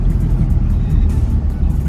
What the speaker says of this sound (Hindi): गाड़ी की आवाज़ बहुत ही भारी हो चुकी है